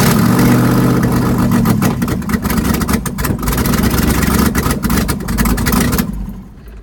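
An LS-swapped Jeep Comanche with an aftermarket cam runs loud and close, its low rumbling engine pulsing unevenly through a rough idle with small revs before quieting at the end.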